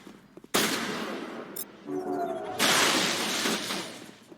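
Gunfire from a pirate sniper in the Mass Effect video game, with sharp loud bursts of shots and a sustained crackling volley near the end, all heard alone without talk.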